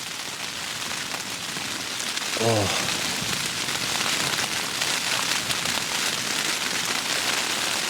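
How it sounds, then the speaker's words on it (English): Rain patters steadily on a tent fly sheet overhead while camping, a dense close drumming throughout, with a brief low voice sound partway through. "I've just been lying here listening to the rain on the fly sheet."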